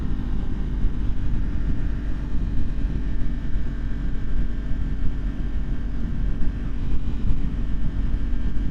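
2023 Yamaha MT-10 motorcycle with the AIS deleted, its engine and exhaust a steady low rumble while riding, buried under constant wind roar, with no talking.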